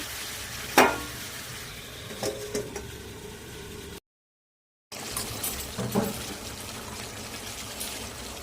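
Meat being stirred in a pan sizzles steadily, with a sharp scrape near the start and more spoon scrapes later, broken by a short gap of silence partway through.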